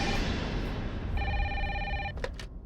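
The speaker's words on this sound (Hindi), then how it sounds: "कैसा फोन है, फिर भी बज रही है।" A landline telephone on the official desk at a women's police station rings with a bright electronic trill in one sustained burst, followed by a couple of short clicks over a noisy indoor background.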